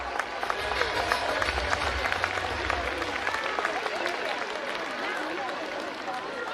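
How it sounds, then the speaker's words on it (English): Crowd applause after a students' colorful performance at an outdoor school sports day, continuous scattered clapping at a moderate distance with a low rumble underneath. "May I request you all to give them a huge round of applause"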